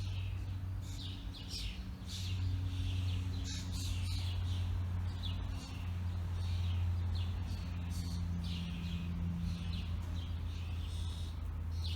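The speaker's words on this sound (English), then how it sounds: "The birds are so happy here in my garden." Birds chirp and sing in an urban cottage garden after rain, with bright, repeated calls drifting over a steady low hum of background noise.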